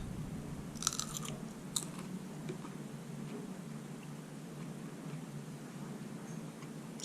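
Someone bites into a fresh hot pepper and chews it close up, with a couple of sharp crunches early on followed by quiet, steady chewing, no talking.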